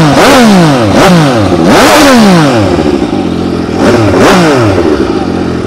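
An MV Agusta 800 Dragster RR with a road-legal homologated exhaust, revved hard up close in repeated sharp rising and falling blips over a loud raspy idle.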